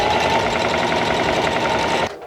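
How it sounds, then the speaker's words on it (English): A sewing machine stitches around the edges of a scrap-fabric bookmark with a loud, close, rapid mechanical whir that runs steadily and then stops abruptly near the end. "I am going to sew around the 4 sides"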